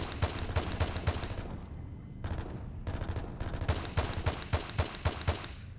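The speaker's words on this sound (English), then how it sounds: "long distance shooting really with the scope. Very effective weapon" Scoped rifle fire in the shooter game Half-Life 2: Raising the Bar Redux, a dense run of sharp repeated shots with a brief pause midway, loud and close throughout.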